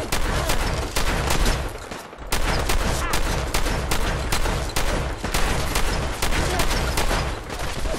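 Rapid shotgun blasts from Fallout 4's Nuka World echo loudly, with dense repeated reports across the whole stretch and only a brief lull partway through.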